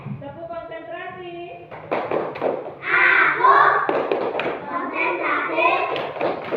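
Schoolchildren in an Indonesian classroom clap in rhythmic patterns during a concentration clapping routine, a brief chant in children's voices at the start, then a group of children speaking together over the taps.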